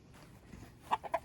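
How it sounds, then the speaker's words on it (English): Chickens in a cardboard-insulated coop cluck faintly at first, then give three louder clucks in quick succession near the end. "We got our chickens over here."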